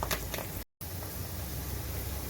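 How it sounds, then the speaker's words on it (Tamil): Onions sauté with curry leaves in a pan, giving a steady, dense sizzle with a brief dropout partway through. No voices are heard. "இன்னும் வெங்காயம் இன்னும் நல்லா கோல்டன் கலரில் நல்லா வதங்கணும்"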